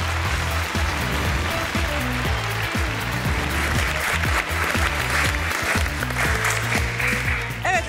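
Studio audience applauding on a Turkish game show, dense steady clapping from a large crowd throughout, close and loud, with some cheering mixed in.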